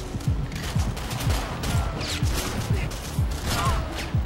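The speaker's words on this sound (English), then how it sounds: "that dude has a shotgun" Shotgun fire in the video game Perfect Dark Zero, a steady run of repeated blasts about every half second over dense game noise, with a voice briefly in the mix.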